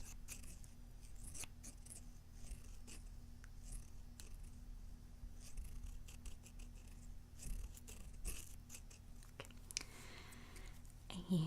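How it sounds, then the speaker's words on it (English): Repeated crisp snips of scissors slicing through plastic, irregular sharp cuts over a low steady hum, close to the microphone. "I like scissor sounds."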